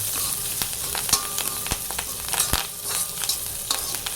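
Curry leaves and dried red chillies crackle and sizzle in hot oil for a kadalai curry, with sharp pops and a steady frying hiss, close and clear with no talking.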